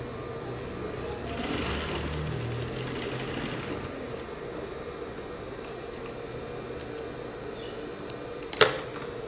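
A sewing machine stitching a fabric strap for a bra-style crop top, a close mechanical whir running in a burst over a few seconds, followed by a short sharp click near the end.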